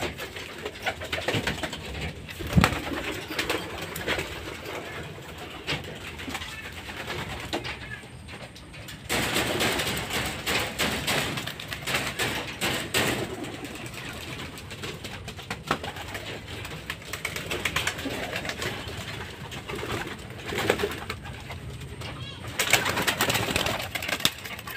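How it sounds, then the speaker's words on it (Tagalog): Racing pigeons coo steadily in a loft before being released for a race, a dense, continuous murmur of many birds close by with occasional flutters and knocks, and no talking. "Palipad tayo ng mga ibon natin at meron ng"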